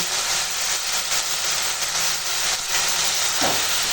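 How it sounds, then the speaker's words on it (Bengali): Pumpkin greens with cumin paste, turmeric and salt frying in a pan, a steady loud broadband sizzle that hisses without pause and has a brief stir-like bump near the end. "এখন কুমড়ো শাকটা একটু মশলার সঙ্গে কষিয়ে নেব"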